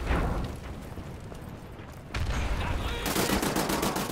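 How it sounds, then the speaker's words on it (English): Gunfire in the shooter game Wolfenstein: The New Order, loud bursts of shots and booming impacts that ease off briefly, then return as sustained rapid fire, close and harsh. "Who's shooting me?"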